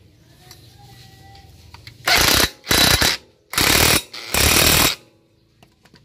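Power tool working on the CVT parts of a Yamaha Aerox 155 scooter, firing in four loud rattling bursts separated by brief pauses, close up.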